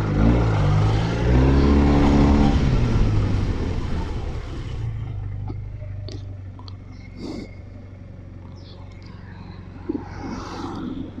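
A Yamaha Tmax 530 scooter pulls away hard, its engine note rising loud and close for several seconds before fading into quieter road and wind noise with scattered light knocks.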